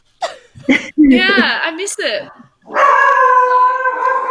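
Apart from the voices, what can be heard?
dog barking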